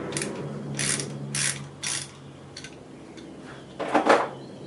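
Ratchet clicking in several short bursts while loosening the two thermostat housing nuts on a 1968 MGC engine, close and fairly loud over a steady low hum.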